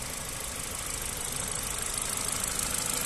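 A 1.6-litre petrol Ford Focus LX estate with manual gearbox idles steadily up close, a continuous even engine hum with a faint mechanical tick running throughout, no voices.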